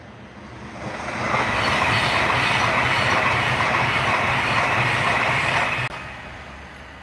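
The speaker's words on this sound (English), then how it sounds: "I hope we had Pendolino coming" A Pendolino train passes nearby with a loud rumbling roar and rail clatter that swells within a second and holds for about five seconds before dropping away abruptly.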